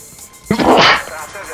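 A single sharp sneeze bursts out close by, brief and loud, followed by quiet.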